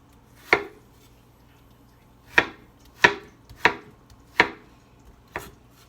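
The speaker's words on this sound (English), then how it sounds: "Set that over there till we get our apples diced." Knife chopping apples on a cutting board in a home kitchen, six sharp chops spaced irregularly, one near the start and five clustered later, close and distinct over quiet background.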